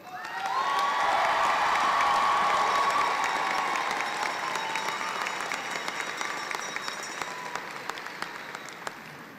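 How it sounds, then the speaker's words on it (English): Sustained audience applause with some cheering and whoops at a university commencement ceremony honoring new alumni, loud and dense at first then gradually thinning over about nine seconds. "Please join me in another large round of applause for our new ASU"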